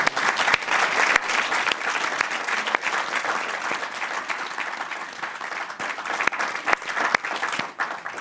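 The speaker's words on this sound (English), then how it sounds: "Can I have a round of applause for the panel?" A seated audience applauds an expert panel on technology and the future, giving a sustained round of close, crisp clapping that holds steady for several seconds with no talk.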